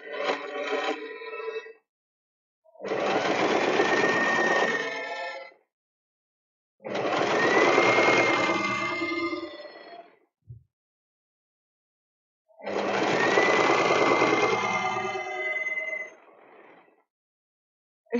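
A sewing machine runs through thick fabric layers while stitching a bear-shaped backpack, sounding in four close, steady whirring runs separated by silent pauses.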